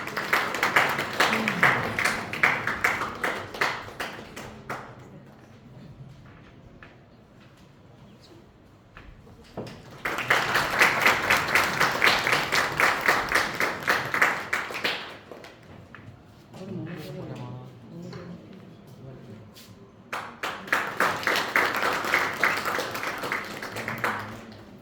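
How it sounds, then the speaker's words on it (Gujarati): An audience at a college business pitch competition claps in three separate bursts of several seconds each, with quieter gaps of room sound and faint voices between them. "જ્યારે સ્વાગત થતું હોય ત્યારે આપણે સૌ તાળીઓથી વધાવી લઈશું."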